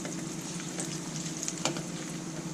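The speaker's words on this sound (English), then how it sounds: "So now right into the frying oil." A breaded Scotch egg with a cold boiled egg inside frying in hot oil: a steady, close, even sizzle and crackle that runs throughout without a break.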